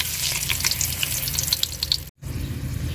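Cardamom, cinnamon and bay leaf sizzle in hot oil in a pan, a bright, close hiss with small pops, cut off by a brief gap before the frying resumes.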